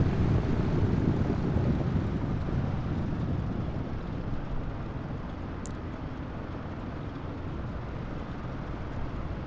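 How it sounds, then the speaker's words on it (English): Steady rushing wind roars behind a DC-3 aeroplane in Microsoft Flight Simulator 2020 at Duxford, a loud continuous low broadband wash with engine drone underneath and no talking. "I love the wind sound effect behind the aeroplane."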